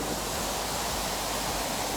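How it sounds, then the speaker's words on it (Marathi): Waterfall at Paleswar near Kolhapur, a dense, steady roar of falling water, loud and unbroken throughout with no voices. "आपल्याला धबधब्याला पाणी बघू शकता।"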